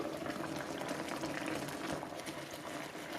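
Pork chops cooking in gravy in an Aroma 3-quart 3 in 1 Super Pot with grill plate, a quiet, continuous bubbling and sizzling simmer that stays steady throughout without talk.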